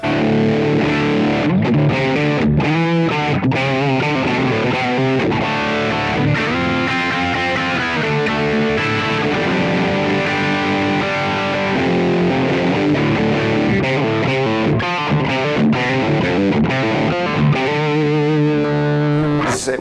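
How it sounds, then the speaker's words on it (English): Electric guitar played through a Korg AX30G processor's distortion amp simulator direct into the interface, chords and riffs ringing continuously and loud with a thick, saturated tone, no voices. "This is the sound of the unit with distortion,"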